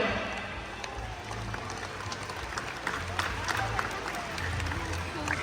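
A crowd at the SeaWorld San Antonio orca show applauds the killer whales, steady clapping at moderate distance across the whole stretch, with voices murmuring underneath.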